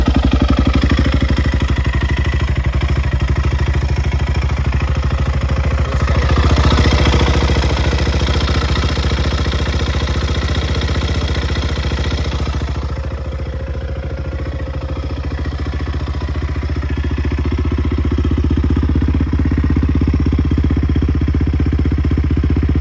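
A Yamaha Raptor 660 ATV with carburetor issues runs steadily, its engine holding a rough, even idle with a brief rise in revs partway through and no talk.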